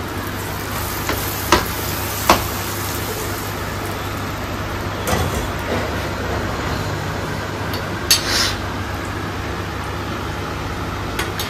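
Matar dal paste, beaten with a little salt, sizzling in mustard oil tempered with fennel seeds, a steady frying hiss with a few sharp crackles and spatters throughout, no voices.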